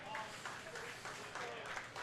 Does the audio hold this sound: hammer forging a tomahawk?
no